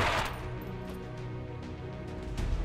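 Gunfire in the XCOM 2 video game: a sharp shot bursts out at the start, followed by a rattling, echoing tail and a few faint crackles, fairly quiet overall.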